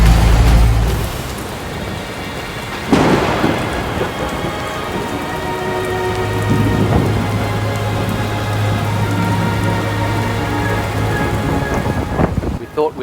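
Heavy rain pounds a sailboat in a thunderstorm at sea, with a dense hiss of rain on surfaces and rolling thunder building through the middle, loud and continuous with no voices.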